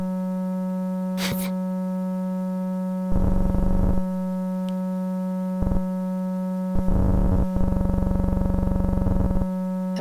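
Steady electronic buzzing with stacked harmonic tones from an STM32-driven LCD's display signal played as audio, broken by bursts of louder, harsher data-like noise that come and go in uneven blocks.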